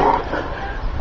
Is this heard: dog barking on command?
yes